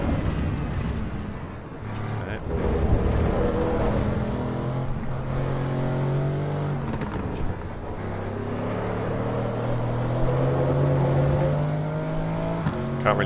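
Audi RS6, a heavy car of just over two tons, driven on the Nordschleife on cold tyres, its engine droning and shifting pitch steadily from inside the cabin, with rising and falling revs under faint wind and road noise.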